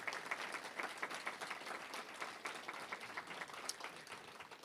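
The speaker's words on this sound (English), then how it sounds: "just give them a round of applause before we close out one more time" Audience applause at a celebration event, a steady patter of many hands clapping throughout, moderately distant and even in level.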